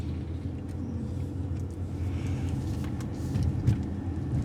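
Steady road and engine rumble inside a moving car on residential streets of a retirement community, a low continuous drone with faint tire noise and small bumps, with no one speaking.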